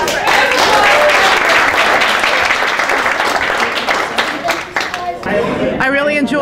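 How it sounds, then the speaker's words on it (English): Sustained round of clapping from a crowd at a community meeting about Miller Park, loud and continuous before thinning out, with a voice speaking near the end. "Round of applause for everyone"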